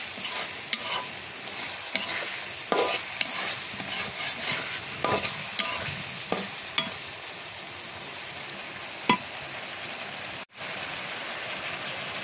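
Taro roots are stirred into sizzling spiced masala in a pan, with a continuous hiss of frying oil and repeated scraping stirs, close and loud throughout without speech.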